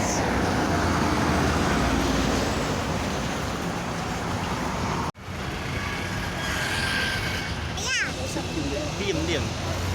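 An NPM Sultan Class V82 bus rolling along the road, steady loud road and engine noise with traffic around, cut by a brief gap midway, then a horn-like tone; voices speak over it.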